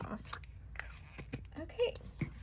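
Scissors snip through paper scraps for a collage, a quick series of soft, close crisp cuts with faint rustling in between.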